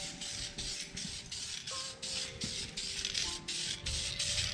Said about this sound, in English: evenly spraying over everything